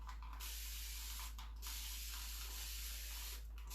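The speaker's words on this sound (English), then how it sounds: "First thing we do is we spray down the cushion. Whoop. The continuous spray mist bottle." A continuous spray mist bottle hisses steadily as it sprays down a cushion, a broad airy mist sound lasting several seconds, with brief pauses and faint mechanical clicks under a constant low hum.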